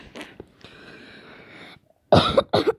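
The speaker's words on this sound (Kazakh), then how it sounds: "жөтеліп тұрым, кішкене тамам қышып тұр" Several harsh coughs close by, first a scattered few then, after a short pause, two loud bursts in quick succession.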